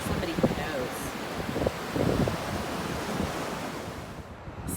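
Steady wash of ocean waves and wind at the beach, with constant broadband surf noise and gusty wind buffeting the microphone, punctuated by a few faint clicks and bumps.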